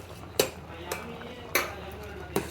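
Powder is stirred into food in a metal pot, giving four distinct scraping clinks of a spoon against the pot, spaced irregularly over a low background hum.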